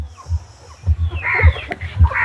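An eleven-month-old chicken on a farm in Machilipatnam, giving short low clucks in a loose rhythm, fairly close, with no talk.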